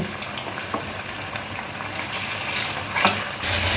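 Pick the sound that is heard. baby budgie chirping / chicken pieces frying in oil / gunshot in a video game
chicken pieces frying in oil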